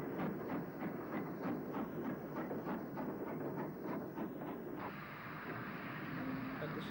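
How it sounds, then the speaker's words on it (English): Steam locomotive 6925 Hackness Hall of Oxley Shed draws into Shrewsbury Station beneath its overall roof, a rhythmic clatter of wheels over rail joints for several seconds before settling into a steadier, smoother rumble. "6925 Hackness Hall of Oxley Shed comes off the same line into Shrewsbury Station"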